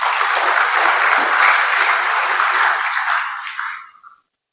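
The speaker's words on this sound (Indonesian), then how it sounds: "Aplaus untuk PLN." An audience gives sustained, dense applause in tribute to PLN, the state electricity company, holding steady for several seconds before thinning out and stopping.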